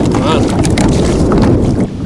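Heavy wind buffets the microphone in a constant roar over open water while drifting for catfish from a boat, with faint rumbling and splashing beneath it.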